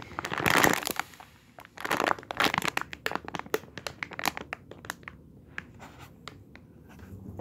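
Resealable plastic packaging holding a squishy toy is handled and crinkled close up, giving irregular bursts of sharp crackling and rustling that fade to lighter rustles.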